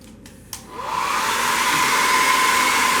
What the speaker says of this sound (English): it gets kind of hot underneath the hairdryer